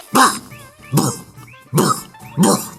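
A human voice imitates a dog barking with four evenly spaced, loud, gruff woof sounds, each short and separated by brief pauses.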